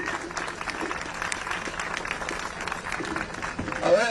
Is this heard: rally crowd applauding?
yes